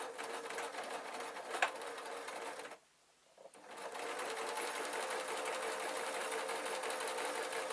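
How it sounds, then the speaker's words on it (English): A domestic sewing machine stitches a hard-wearing fabric peg bag, its steady motor whirr running continuously apart from a brief pause near the middle, close and alone with no talk. "I'm going to start sewing when I've got to the other blue line"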